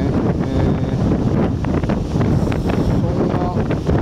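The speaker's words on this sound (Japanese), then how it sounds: "南東風はめちゃくちゃ強いんですよ" Strong southeast wind at Sendai Newport beach buffets the microphone in a loud, continuous roar with low rumbling gusts and a hint of surf underneath.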